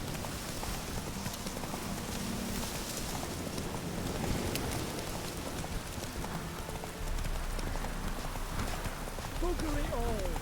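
Roach the horse gallops in The Witcher 3, hooves pounding in a steady rapid clip-clop under rain-like ambience and talk, continuous and fairly close.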